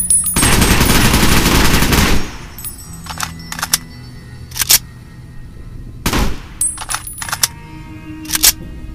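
Bursts of AKS-74U rifle fire in a modded Fallout New Vegas, with a long sustained automatic volley at the start, then several short separate bursts, loud and close with no talk.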